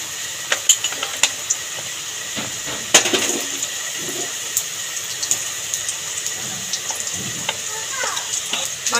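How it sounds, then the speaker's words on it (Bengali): Pre-cut potatoes fry in hot oil for a Bengali soybean dish, giving a steady close hiss and sizzle with occasional stirring clinks and scrapes. "আগে থেকে কাটা আলুগুলো ভেজে নেব তেলের মধ্যে দিয়ে।"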